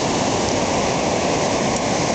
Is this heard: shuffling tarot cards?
no